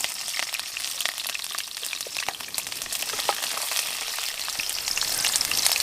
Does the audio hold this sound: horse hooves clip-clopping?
no